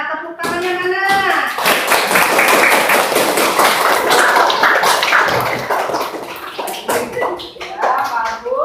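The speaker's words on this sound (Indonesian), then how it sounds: "Tepuk tangannya mana?" A classroom of students claps together after a classmate's presentation, a dense, loud burst of many hands lasting several seconds before it thins out, with a teacher's voice speaking at the beginning and again at the end.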